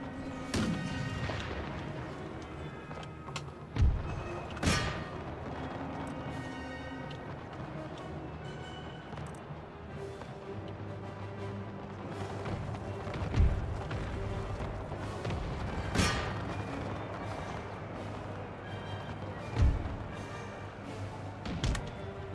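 Canister shot artillery in Empire Total War booms at scattered intervals, several deep heavy blasts over a steady battlefield din, with little talk.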